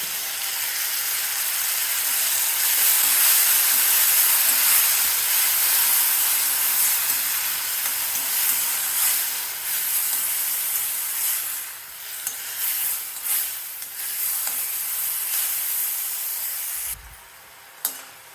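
Blended tomato purée sautéing in a pan for a spicy okra kara kuzhambu, giving a steady close hiss and sizzle with stirring scrapes, thinning out toward the end.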